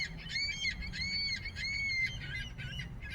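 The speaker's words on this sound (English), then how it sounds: "These seagulls are ready." Seagulls squawk repeatedly in a series of sharp, nasal calls over a steady low rumble of background noise, moderately distant.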